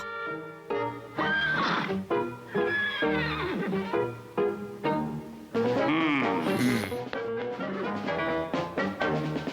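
Horses in a Smurfs cartoon neighing and whinnying loudly, several long shrill calls one after another with a short gap midway, close up and dominating the scene, with no voices.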